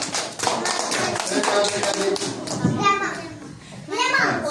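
Preschool children clap together in a kindergarten classroom, a busy patter of small hands alongside children's chatter and an adult voice speaking.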